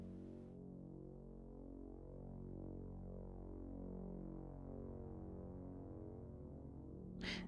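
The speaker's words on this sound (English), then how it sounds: "So right now we're listening to Zebra." A sustained, low Zebra synthesizer drone in a trailer music cue, a dense, steady harmonic tone that slowly shifts, with a brief brighter swell near the end, heard alone without talking.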